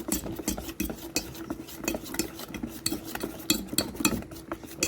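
Rice and lentil pakora batter is whisked briskly by hand in a bowl, a quick, close, continuous run of wet slapping and stirring strokes.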